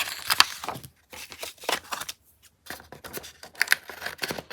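Scissors snip through a paper page in several short, crisp cuts separated by brief pauses, close and fairly loud with no talking.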